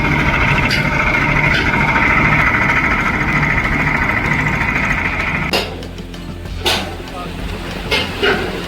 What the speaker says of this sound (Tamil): பாருங்க எப்படி இந்த வைப்ரேட்டர் மூலம் கீழே